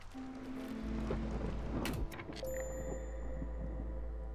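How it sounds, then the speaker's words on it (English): A storm sweeps in during the settlement-building video game Against the Storm, with steady rain and a low rumble of thunder swelling midway, plus a few game tones and chimes layered on top. "Okay, first storm is coming up now."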